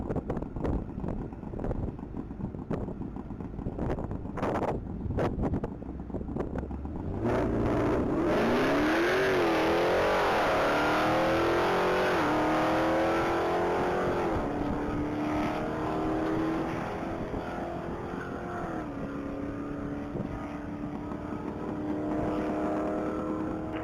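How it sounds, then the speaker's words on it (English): A 2021 Jeep Grand Cherokee Trackhawk pulls off on a Texas Mile top-speed run, its engine note climbing through several gears in loud sweeping rises with heavy wind noise, close and sustained with no talk. "that 2021 Jeep Grand Cherokee Trackhawk is back on the line, vehicle number 3"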